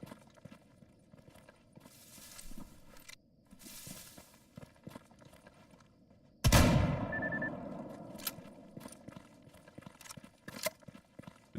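A shotgun in STALKER GAMMA fires one loud, close blast with a long decaying tail, preceded by scattered footsteps and clicks, with more faint knocks afterward.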